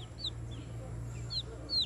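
Chickens raised for slaughter cluck and chirp softly at a distance over a steady low hum, with a few short high calls spaced apart.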